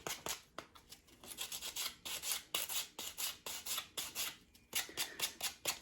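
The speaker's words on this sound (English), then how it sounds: "I'm just going to take some 220 grit sandpaper and do a little distressing, bring back a little bit of that natural wood." Hand sanding of painted wood with 220 grit sandpaper to distress the finish on a thrifted decor tree, a steady run of close, raspy back-and-forth strokes with short pauses between bursts.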